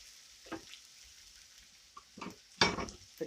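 Onion potatoes cook in a pan with a faint, low sizzle broken by a few scattered utensil clinks and scrapes, the loudest burst near the end.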